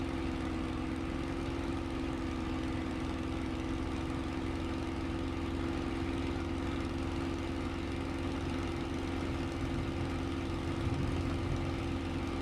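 Steady droning aircraft engine in a flight simulator game as the throttles go forward, a continuous even hum with a strong low tone and no talk.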